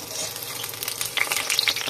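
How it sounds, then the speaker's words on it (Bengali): Masoor dal pakoras given a first light fry in a kadai of oil, a soft continuous sizzle with brief bursts of crackling spitting toward the end, close by and with no talk. "তো এখন হালকা ভেজে নেবো প্রথমবারে"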